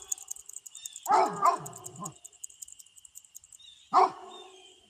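Dogs barking at a delivery person arriving at the house: a few loud, close barks and yips in two bursts with whimpers between them, over a steady high background hiss.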